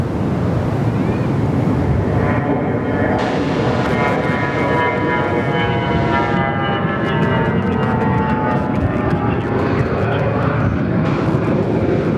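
A Fokker 100 airliner takes off at Perth Airport, its jet roar loud and sustained throughout, with rising and shifting engine tones and wind buffeting on the microphone.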